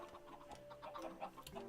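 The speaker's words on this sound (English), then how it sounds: "You can hear my chickens clucking away down there." Chickens in the video game Minecraft cluck in short, repeated, moderately faint bursts, several calls overlapping with no voices over them.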